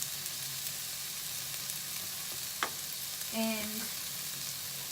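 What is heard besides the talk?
stirring spices into frying okra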